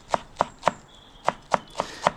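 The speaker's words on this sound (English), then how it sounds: "all I'm going to do is literally just chop it up" Fresh coriander chopped with a knife on a board, seven crisp evenly spaced chops close up with a short pause midway, no voices.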